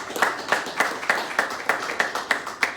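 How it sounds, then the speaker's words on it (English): Steady applause for Congressman Henry Cuellar at a local college funding presentation, a room of hands clapping in a fairly regular rhythm with sharp recurring peaks, moderately loud and without voices over it. "Another round of applause, please, for Congressman Henry Cuellar."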